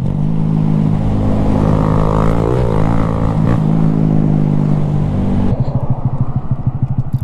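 A motorcycle engine with an IMS shifter runs loud and close, its idle rising and falling in pitch, then drops to a rough, lumpy throb near the end; no one speaks.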